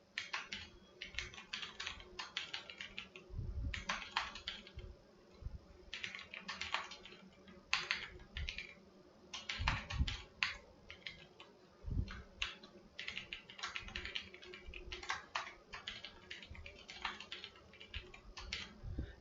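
Quick bursts of clicking keys on a computer keyboard, tapped in irregular clusters with short pauses, sounding close and fairly quiet.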